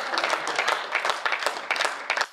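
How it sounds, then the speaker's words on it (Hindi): Audience at a Hindi comic poetry gathering (hasya kavi sammelan) bursts into steady applause, many hands clapping densely and continuously in a hall, fairly loud and close, with no voices over it. "एक बार हाथ उठाकर सभी लोग तालियां बजाएं"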